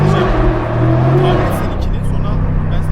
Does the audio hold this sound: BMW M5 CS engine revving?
yes